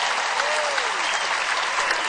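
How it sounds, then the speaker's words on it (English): Studio audience applause, a dense, steady wash of clapping filling the whole short stretch at even loudness, with no voices standing out. "Let me give him a roaring round of applause to Snopes."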